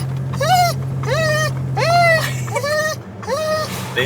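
An excited dog at the beach lets out a run of high, wavering whimpers and whines, five or six rising and falling cries in quick succession, close by over a low steady hum.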